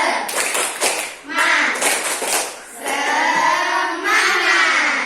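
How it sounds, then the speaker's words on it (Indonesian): A classroom of students stands and performs a rhythmic spirit clap, sharp bursts of hand claps in patterned groups mixed with loud chanted voices, close and lively throughout. "Tepuk semangat"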